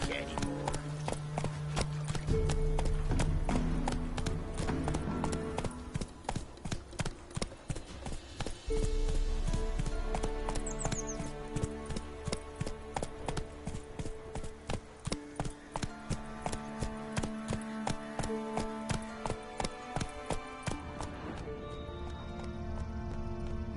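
Galloping horse hooves in The Witcher 3 video game, a steady, rapid clip-clop rhythm close and loud throughout, running under game music and voices, with the pace briefly easing near the end.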